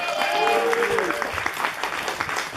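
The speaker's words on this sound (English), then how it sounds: "Make some noise for AB." A crowd claps and cheers loudly, dense applause with a voice briefly calling out over it near the start.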